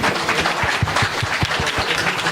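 A conference audience gives a conference panel a round of applause, dense and continuous for the whole span.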